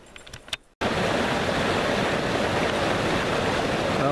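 Steady broadband rush of flowing water from the Sauk River, loud and close, filling the clip after a brief quieter moment of soft handling noises at the start.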